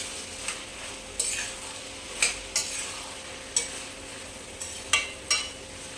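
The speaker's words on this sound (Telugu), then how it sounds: "ఇలా మధ్య మధ్యలో కలుపుకుందామండి" Bottle gourd curry cooking in a pan, a soft continuous simmer broken by about eight sharp spoon scrapes and clinks against the pan as it is stirred at irregular intervals.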